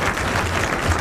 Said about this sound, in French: Il a droit à vos applaudissements.